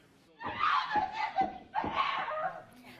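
A woman screams and cries out in two loud bursts after a not guilty verdict in a sexual assault trial against Giannini, shrill and emotional with broken breaths between them, close by.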